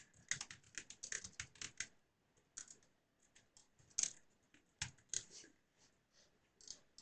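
Quick bursts of keystrokes clatter on a computer keyboard as a title is entered, close and crisp, with irregular pauses between short runs of clicks and a few louder taps.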